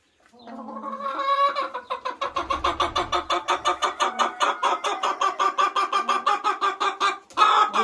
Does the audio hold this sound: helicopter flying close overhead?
no